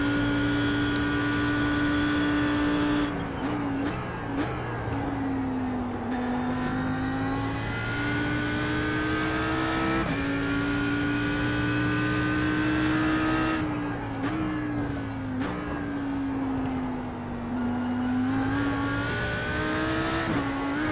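An Audi R8 GT3 race car engine at Bathurst accelerates hard, roaring loudly and steadily with repeated rising pitch sweeps and brief dips at gear changes, heard from inside the car with no talk over it.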